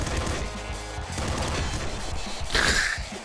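Rapid submachine gun fire in the Nuclear Throne video game, a dense burst of chattering shots with crashing impacts throughout, loudest near the end.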